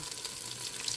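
Spicy chili crisps sizzle in a pan while being sautéed and stirred, a brief steady frying hiss, close and fairly soft with no voices.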